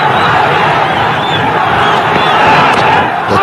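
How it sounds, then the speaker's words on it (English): Crowd noise rising from the stands at Sylhet International Cricket Stadium during a Bangladesh versus Ireland one-day international, a steady, dense roar with faint shouting and chant-like swells throughout. "The chants have started to go up in the stands here at the Sylhet International Cricket Stadium"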